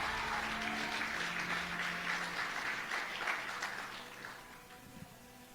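A church congregation applauds during an evening worship service, a steady wash of many hands clapping that fills the room, fades toward the end and gives way to a few scattered claps.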